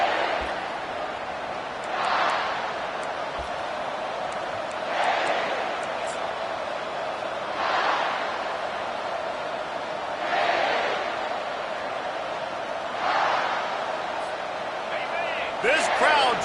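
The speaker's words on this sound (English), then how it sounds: "This crowd trying to show them what it's going to be like all day in this house." Roaring stadium crowd in the College Football 25 video game, a steady dense wash of noise that swells in periodic waves every few seconds, with commentary talk over it.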